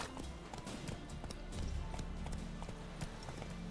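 A horse gallops in the video game The Witcher 3, its hooves pounding in a quick, steady clip-clop rhythm, close and continuous, with no talk.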